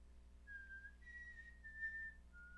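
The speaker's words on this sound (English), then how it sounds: "you hear this this strange whistling sound seems to carry with the wind" A strange, thin whistling carried on the wind, faint and distant, rising in wavering tonal bursts that drift and fade against a low steady hum.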